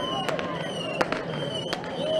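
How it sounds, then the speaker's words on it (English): Firecrackers go off at a nighttime street protest in Atlanta, a few sharp pops and cracks at intervals over a steady crowd murmur, with a faint siren-like tone running underneath. "Just seeing some firecrackers going up."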